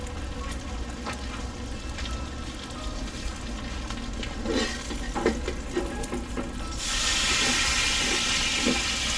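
Steam hissing from a cooking setup at a lakeside campsite, a faint low background with scattered clicks and pops, then a sudden steady hiss starting near the end and holding loud until the clip ends.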